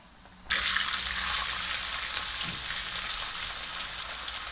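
A green pepper frying in a pan: a loud, steady sizzle bursts in abruptly after half a second and holds evenly to the end, with no talking.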